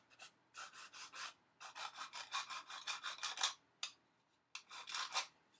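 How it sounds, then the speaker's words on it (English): Rhythmic rasping strokes of a straight file board sanding plastic on a Guillows Nieuport model plane, in short bursts with brief pauses, close and fairly quiet with no talking. "A straight file board when you sand."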